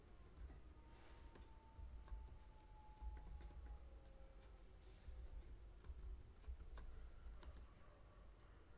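Steady stream of light clicky keystrokes on a computer keyboard as an SQL select query is typed, close and continuous under a faint hum, with no talking.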